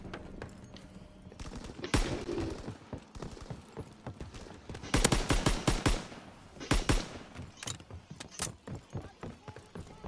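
M1A1 rifle shots in the World War II shooter Call of Duty: World War II, a few sharp cracks and quick clusters of shots spread irregularly among lighter clattering and movement noise.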